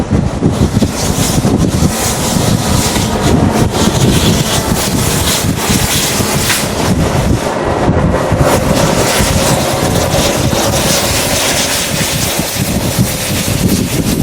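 Strong wind roars steadily atop Sydney's Centrepoint Tower, buffeting the microphone with a loud, continuous rush that never lets up and carries no voices.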